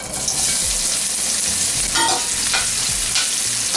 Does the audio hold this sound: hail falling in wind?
no